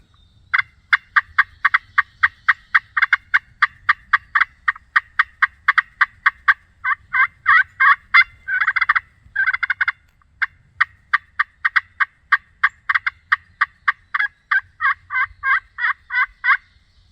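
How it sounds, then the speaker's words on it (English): A wild turkey gobbles repeatedly during a turkey hunt, a long run of sharp, rapid gobbling bursts that sounds strong and clear, with no talking. "There was a gobble down in there."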